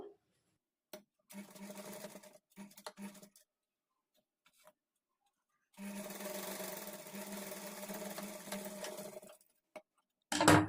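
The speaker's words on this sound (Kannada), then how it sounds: "ಡಾಟ್ಸನ್ನು ಸ್ಟಿಚ್ ಮಾಡಿಕೊಳ್ಬೇಕು" Back darts on a lined blouse are stitched on a sewing machine in two clear runs, a short burst and then a longer steady whirr, separated by quiet pauses.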